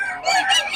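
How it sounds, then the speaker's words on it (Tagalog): Short burst of rooster and chicken calls at a cockfight venue in Bocaue, a few overlapping clucks and a crow-like cry, fairly close and loud for under a second. "Raming manok pero wala yata si Perry mga idol ngayon."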